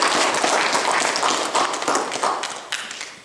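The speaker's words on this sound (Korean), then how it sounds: "그분들을 위해서 우리 박수 한번 하자" A church congregation claps together during a sermon, a dense burst of hand claps that is loud at first and slowly thins out and fades.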